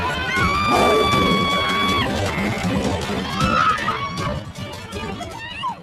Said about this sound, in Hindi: अंदर से मन्ना की पत्नी की चीखने चिल्लाने की आवाज आ रही थी।